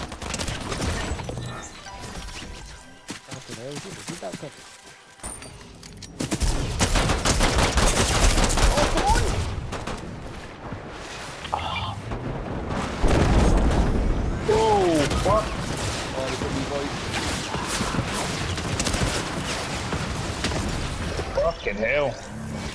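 Rapid bursts of gunfire and explosions from a Fortnite match, loud and dense throughout, with players talking over the action and a brief quieter lull near the start.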